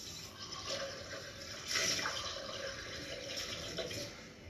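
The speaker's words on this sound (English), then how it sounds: "Just get myself some hot water." Hot water pours steadily into a container in a kitchen during dessert preparation with custard and vanilla ice cream, a continuous close splashing hiss with a brief louder surge midway.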